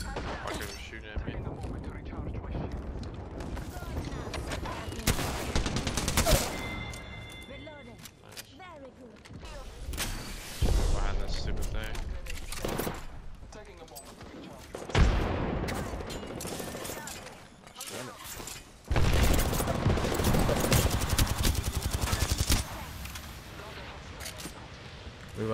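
Rapid bursts of gunfire in the Apex Legends battle royale game, loud and repeated in clusters with heavy impacts, mixed with frantic talk from a player throughout.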